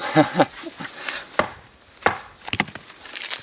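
A Survive Knives GSO 10 blade batoned through dry wood, giving a handful of sharp, close knocks and splintering cracks spaced irregularly, with no talking.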